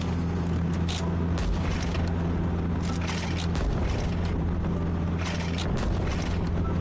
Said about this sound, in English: Kind of weird just bombing your own transport vehicles.